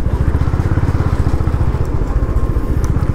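A motorcycle rides along a freshly built road in Uttarakhand, its engine a loud, close, steady pulsing drone with faint crackle from loose stones.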